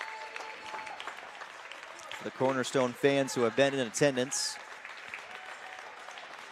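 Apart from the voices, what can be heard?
crowd applauding Cornerstone seniors at basketball game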